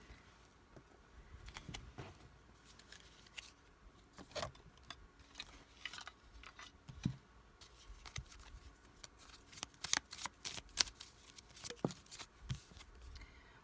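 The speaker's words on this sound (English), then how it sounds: "Let me get some more cards here. These cards are not wanting to cooperate." Tarot cards are shuffled during a love reading, making faint, scattered papery flicks and soft patter that thicken in the middle, close but quiet over a low background, with no talking.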